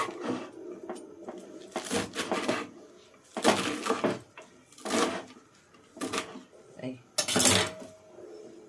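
Chicken for curry being cut in a kitchen, heard as a series of irregular clattering, knocking chops, close and fairly loud, spaced roughly a second apart.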